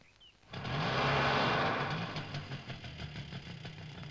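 A scooter engine starts and runs close by, a rough buzzing idle that rises sharply then settles into a steady vibrating hum.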